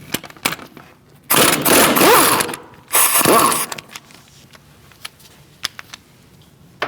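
A 17mm socket on a ratchet wrench loosens the brake caliper bolts of a 2002-2006 Toyota Camry, with two long bursts of rapid ratcheting clicks separated by pauses and scattered metallic taps.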